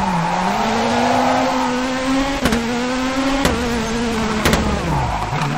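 Rally car engine in WRC 4 holds a steady loud drone, with rising and falling revs and three short sharp bursts of tire skid on the turns.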